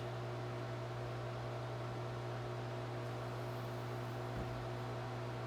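An electric pottery wheel spinning as clay is thrown for a casserole makes a constant low motor hum with a steady whirring hiss, unbroken and even, with no voices.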